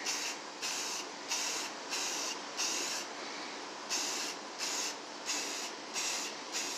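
Short bursts of spray paint apply a black coat to a 3D printed Mighty Morphin Power Ranger helmet, a close, loud hiss repeating in a steady rhythm of roughly ten pulses with brief pauses between.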